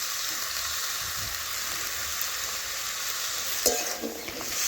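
Ridge gourd, eggplant and potato frying in a pan, a loud, continuous close-up sizzle with a steady hiss and a brief stirring scrape near the end.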